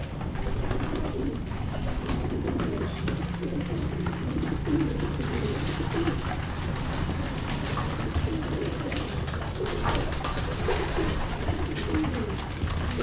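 Breeder pigeons coo inside a loft, a steady chorus of low, throaty calls overlapping throughout at moderate loudness, with faint shuffling and a few voices.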